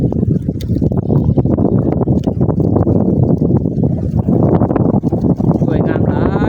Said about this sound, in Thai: ลมพัดเนาะพัดวิดๆเลยทุกคนเนาะ